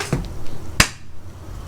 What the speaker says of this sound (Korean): 싱크를 맞추려고 박수를 쳤는데